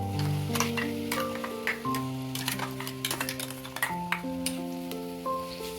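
Ground spice paste with turmeric, garam masala and coriander powder frying in a pan for mushroom donne biryani, a soft sizzle with occasional ticks and clinks of stirring, fairly quiet and with no talk.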